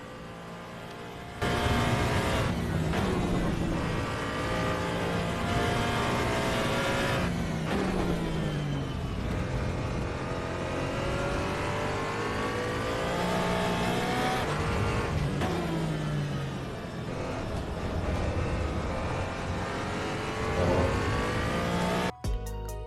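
Around twenty AI race cars in Assetto Corsa EVO, played in VR, roar around a track with steady, loud engine drone and repeated revving and gear changes, occasional passes and tyre noise.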